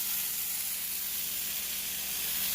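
Pancakes fry in coconut oil in a pan, giving a steady, even sizzling hiss throughout with no talking.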